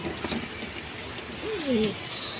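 Pigeons of classic fancy breeds, including a Military type, give a brief low coo near the end, heard against steady ambient noise in an indoor loft setting.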